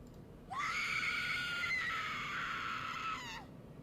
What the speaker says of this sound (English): You hear a screaming